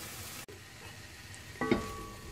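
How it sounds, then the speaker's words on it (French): Bell pepper, onion and garlic in olive oil in a pan, a soft sizzle with a brief clank of utensils, followed by a short bright clatter near the end. "On les laisse dorer tout doucement"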